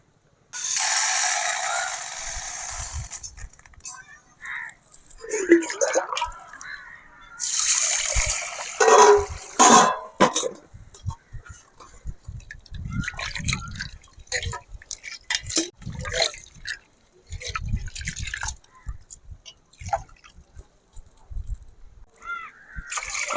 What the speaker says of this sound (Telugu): ఇప్పుడు పప్పుని కడుగుతున్నా.